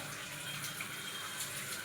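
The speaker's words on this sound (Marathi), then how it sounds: "एकीकडे पाणी भरून घेते मी" Water runs from a household kitchen tap into a container, a steady close gushing hiss with no talking over it.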